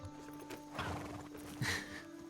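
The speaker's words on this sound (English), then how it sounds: "The horse is freaking out, fellow." Faint hoofbeats clip-clop from a horse in the RedM Western game, with a whinny rising partway through, all quiet under a steady background hum.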